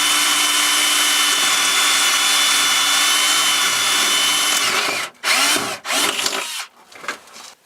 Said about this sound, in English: So now I have to drill them out somehow.